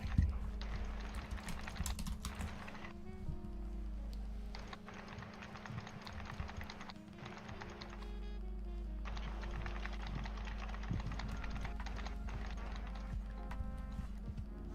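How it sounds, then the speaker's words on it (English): Rapid, hard keystrokes clatter on a computer keyboard in a steady run, pausing briefly a few times, close and fairly loud over a constant low background hum. "it just sounds like you're over there absolutely smashing all your keys"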